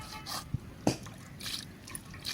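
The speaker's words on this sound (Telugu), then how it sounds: "అలా నీళ్ళు పోసుకుని తోముతా ఉంటే బొరుసు అంతా నీట్గా కొట్టుకుపోతూ ఉంటుంది" Water splashes and drips in short, faint bursts as salted tullu fish are scrubbed clean by hand, with a couple of sharper splashes standing out.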